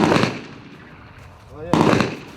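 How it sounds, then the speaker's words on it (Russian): A grenade blast in Chechen combat training booms loud and close at the start, then a quieter stretch gives way to a second heavy burst. "Пошла граната."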